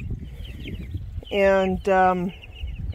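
Young chicks on a day outdoors give faint, thin chirps, broken by two loud, close clucking calls in quick succession near the middle, then soft peeping again.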